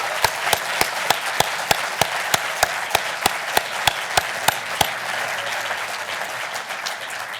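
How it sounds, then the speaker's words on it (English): An audience at a National Mining Hall of Fame induction ceremony gives a full round of sustained applause. The clapping is dense and even throughout, with sharp regular claps standing out close by over the crowd. "Please join me in one final round of applause for our newest members of the National"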